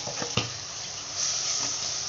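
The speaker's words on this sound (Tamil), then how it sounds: "நல்லா இஞ்சி பூண்டு பச்சை வாசனை போகிற வரைக்கும் நல்லா வதக்கிக்கலாம்" Ginger garlic paste and masala sauté in hot oil in a pan, a close steady sizzle with a brief stirring knock near the start, no voices.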